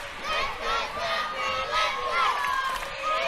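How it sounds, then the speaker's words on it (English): The crowd at a women's basketball state championship grand final, Sunbury against a rival, cheers and shouts in a sustained wash of noise, with commentators talking over it. "The Sunbury crowd is coming to life again."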